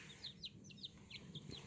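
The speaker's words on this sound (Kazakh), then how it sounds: "Міне тауықтың балапандары" Young chicken chicks in a brooder with a feeder and automatic drinker give repeated high, quick cheeping peeps over a soft low background hum.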